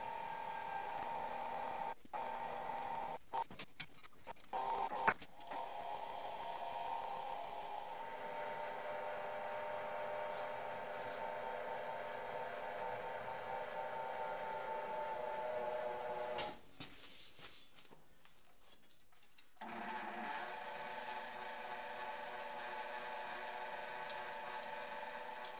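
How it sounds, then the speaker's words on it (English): Motor of a homemade bead roller, built from a Jeep CJ-5 part, whirs steadily as it rolls a bead into a metal panel, with a few clanks early on, then briefly stops and restarts. "The motor on this isn't quite strong enough to do it all in one pass,"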